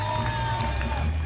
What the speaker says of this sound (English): And you hear the applause from the crowd.